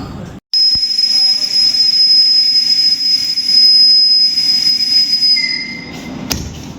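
An express train on the Veraval to Thiruvananthapuram run rolls along steadily, its loud, continuous rumble topped by a sustained high whine, probably wheel squeal, with a brief cut near the start and a sharp clank toward the end.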